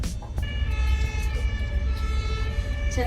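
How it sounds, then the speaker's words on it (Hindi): An ambulance siren wails on a Berlin street, loud and near, with a steady rising and falling tone over city traffic rumble and a brief horn toot. "एम्बुलेंस आ रही है"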